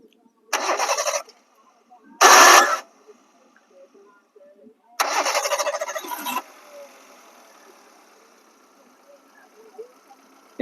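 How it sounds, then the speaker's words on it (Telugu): A Hyundai Santro petrol car's starter cranks in two short bursts and then a longer third one. The engine catches on that last attempt and settles into a quiet, faint idle. "ఒకసారి స్టార్ట్ చేయండి సార్"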